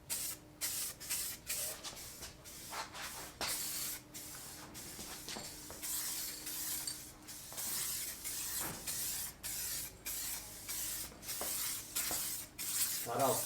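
A 3M spray nozzle hisses in repeated bursts, spraying a coating in short pulses with brief gaps between them, close and fairly quiet, with no talking over it.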